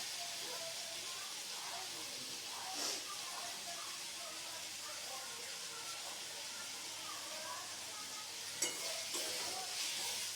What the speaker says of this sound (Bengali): তো ধিমি আঁচে আমি এটি ভালোভাবে ভেজে নিচ্ছি।